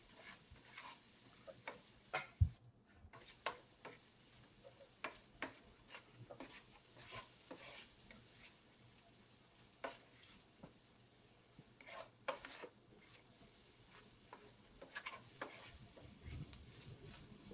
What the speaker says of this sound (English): Let me go ahead and finish sauteing all this.